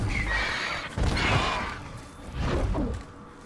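A horse neighs and whinnies in a video game, with a breathy, whooshing texture, rising and falling twice over a few seconds.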